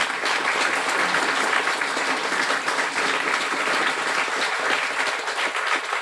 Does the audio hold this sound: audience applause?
yes